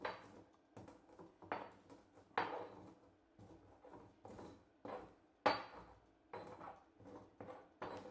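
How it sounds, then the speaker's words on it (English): A mortar and pestle grinding dry-roasted peppercorns and clove with a little oil: a steady series of sharp pounding and grinding knocks, roughly two per second, close and fairly quiet, with no voices. "I'm going to add just a bit of oil while I grind the pepper and the clove"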